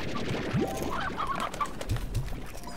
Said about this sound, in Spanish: Vamos a coger la gallina esta.